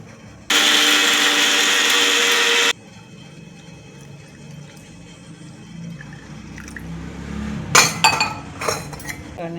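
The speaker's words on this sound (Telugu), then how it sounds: "వేయించిన శనగపప్పుతోటి కొంచెం ఉప్పు కలిపేసి చట్నీ పట్టేస్తున్నాను." A kitchen mixer grinds roasted chana dal with salt and green chillies into chutney in one loud, steady whir for about two seconds, followed by quieter clinks of a steel jar and dishes.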